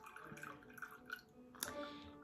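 Black brisk British tea trickles from a little pot into a cup: soft intermittent drips and splashes, close and quiet, with a brighter clink toward the end.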